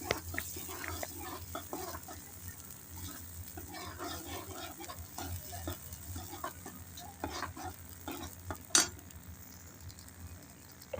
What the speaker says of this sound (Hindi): तो अब ये हमने इसमें टमाटर छोंक दिए, अभी हमने टमाटर को भी पकाना है।